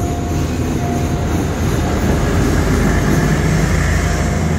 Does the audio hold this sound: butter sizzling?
no